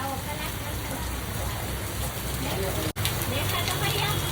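Steady heavy rain pours in a waterlogged Gujarati village lane, a dense even hiss that runs continuously with one brief dropout near the end.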